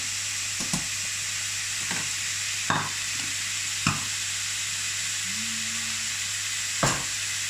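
Noodles stir-frying in a wok for a beef and vegetable dish give a steady broadband sizzle, broken by several sharp scraping clanks of the utensil spaced a second or so apart.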